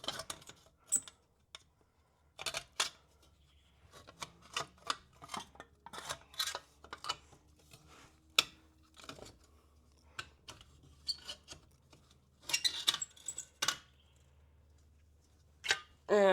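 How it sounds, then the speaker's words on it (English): A stuck brake shield on a 2023 Subaru WRX is worked loose by hand, giving scattered metallic clicks, scrapes and clunks with pauses between them, close and fairly quiet. "I've finally gotten the shield to a point where I might be able to slide it off"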